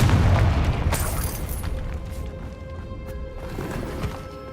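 Confringo spell explosion in a video game, a deep rumbling boom up front that decays into a sustained low roar with scattered pops and crackles, under a faint tonal hum.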